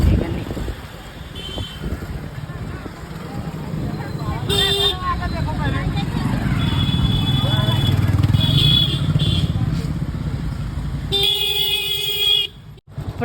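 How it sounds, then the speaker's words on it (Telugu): Cars lined up in heavy traffic at the Prayagraj Kumbh Mela, engines rumbling close by with a few short horn toots and a longer honk near the end, while a person talks over the noise. "ఇప్పుడు కార్లు అయితే వరుస పట్టింది"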